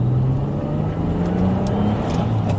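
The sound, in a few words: Vauxhall Insignia VXR 2.8 litre V6 turbo engine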